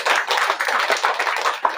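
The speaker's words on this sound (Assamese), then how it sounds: "তালি বজাই দিয়া" A church congregation claps their hands together in a quick, rhythmic run of sharp claps, close and fairly loud, with no voices over it.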